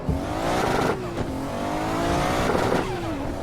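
A race car engine in a racing simulator video game, driven in light rain, revs hard and close, climbing and falling in pitch through quick gear changes with a brief tire squeal.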